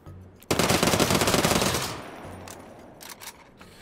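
A Gar gun in the shooter game Hawked fires a rapid automatic burst for about a second and a half, loud and dense, then dies away into a few faint clicks and rattles.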